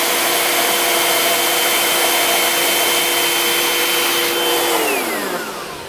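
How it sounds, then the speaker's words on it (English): A wind-driven machine in Santa's workshop runs with a steady whirring drone and faint hum, holding an even level before winding down and fading near the end. "So that's how Santa uses the wind to help power his machines."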